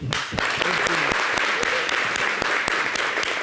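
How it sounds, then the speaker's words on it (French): Audience applause on a local television broadcast, a burst of dense clapping with sharp individual claps standing out, continuous through the whole short stretch. "Merci de l'applaudir."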